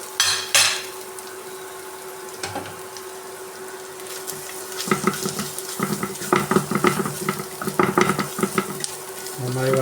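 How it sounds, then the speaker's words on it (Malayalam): A spoon stirs and scrapes egg and pappad thoran with salt, chili powder and coconut in a pan over a low sizzle, the strokes coming in quick irregular bursts. "നന്നായി വഴറ്റിയെടുക്കാം."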